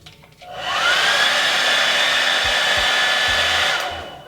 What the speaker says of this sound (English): My handy dandy blow dryer right here.